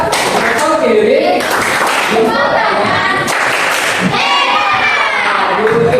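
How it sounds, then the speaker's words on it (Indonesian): A classroom audience claps for a speaker who has just finished, with loud, steady clapping mixed with thumps and children's voices calling out throughout. "Kita beri tepuk tangan, Pak."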